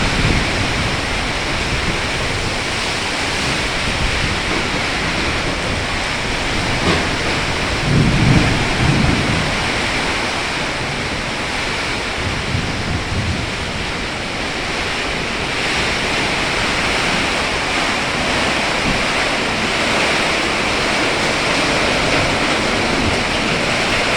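A heavy thunderstorm with downpouring rain roars as a dense, continuous wash, with a low rumble of thunder swelling partway through, loud and steady with no voices.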